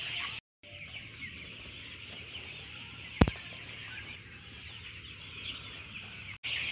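Chickens at a poultry farm during feeding time make a steady low clucking chorus that continues throughout, with one sharp click partway through and no talking.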